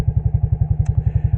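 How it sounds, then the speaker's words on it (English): An electric motor drives the belt of a vintage Sears Roebuck sander, giving a rapid, even thumping pulse up close with a brief faint squeak partway through. "So I'm gonna see if this motor will pull it fast enough to run that belt."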